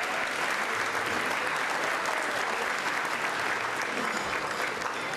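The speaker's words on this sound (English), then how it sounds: "Let's go ahead and give a round of applause to the UAPB baseball team and the women's softball team in the back." A crowd gives a sustained, even round of applause for the UAPB baseball and women's softball teams at an event, a steady roar of clapping throughout, faint voices mixed in.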